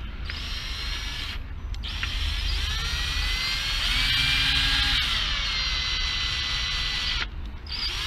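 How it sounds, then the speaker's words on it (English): An electric drill with a 5mm bit whines steadily at high pitch for several seconds while fitting a motorcycle mudguard, with brief pauses near the start and end, its motor pitch shifting slightly as it bites. "I started with a 3mm drill bit, and I'm now going up to a 5mm drill bit."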